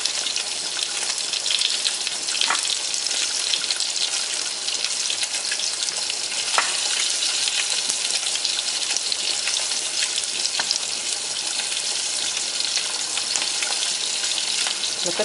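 A pot of coconut milk soup with lotus stems bubbles on the stove, a dense, constant bright fizzing and sizzling with scattered pops, close and fairly loud, no voices over it.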